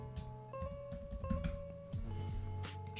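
Typing on a computer keyboard while entering a search in Canva, a run of quiet, irregular key taps under a steady background tone with faint musical notes.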